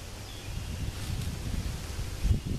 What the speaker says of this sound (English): It's a little bit more windy down here as well.